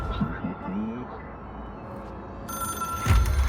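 A telephone rings in the game Control, a bright ringing tone rising late over a voice talking, loud and close.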